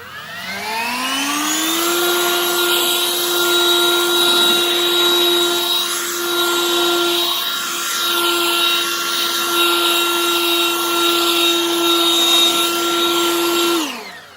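Harbor Freight's Lynxx 40 volt cordless leaf blower spins up with a rising whine, holds a loud, steady airy roar for about twelve seconds over gravel, then cuts off and winds down.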